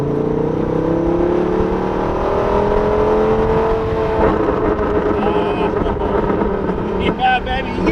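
Ford Raptor pickup fitted with a new center-exit exhaust that dumps under the middle of the truck, revving loudly and steadily with rising engine harmonics close by, while voices talk over it.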